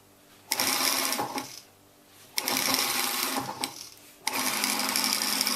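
A sewing machine stitches a small seam, about 5 mm, joining trouser fabric edge to edge, running in three close bursts of steady whirring with short pauses between them.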